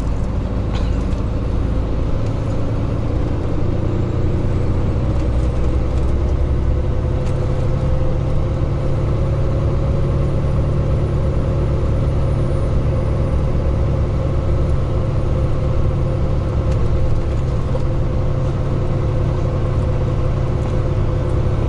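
A Volvo FM420 truck with a manual gearbox pulls away and works up through its gears, a loud, steady, low diesel drone heard from the cab with no talking.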